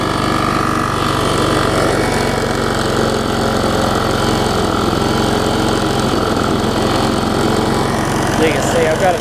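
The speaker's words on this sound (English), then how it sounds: "So you can see I've got to tighten up the weed eater thing there, but need to let it run here for a little bit." Small two-stroke weed trimmer engine running steadily at a constant idle-like drone, loud and close, with a faint voice briefly heard over it.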